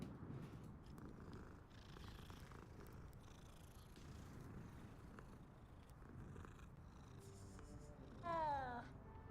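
A cat purrs steadily while being petted in the Hogwarts Legacy video game, soft and continuous throughout, with a brief meow-like chirp near the end over a faint low background.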